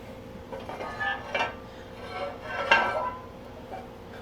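Scraping in a baking pan while spreading brookie batter: a few faint, close rasping scratches of a utensil against metal, coming in short uneven strokes with quiet gaps between them.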